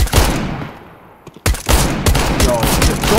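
Loud, rapid gunfire bursts in the video game CS-GO, with dense shots at the start, a short lull, then more sustained firing that runs to the end.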